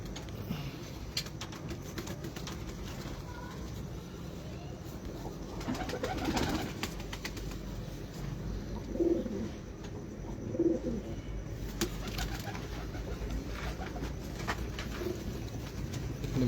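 A loft of show pigeons gives low, soft coos against a steady background hum, with a few distinct coos standing out near the middle. Faint movement sounds scatter throughout.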